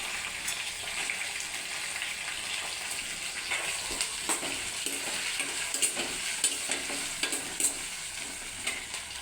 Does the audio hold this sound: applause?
no